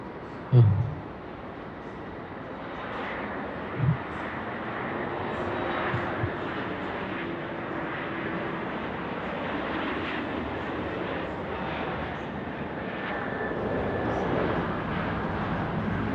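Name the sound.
Fiji Airways Boeing 737 MAX 8 landing on runway 16 right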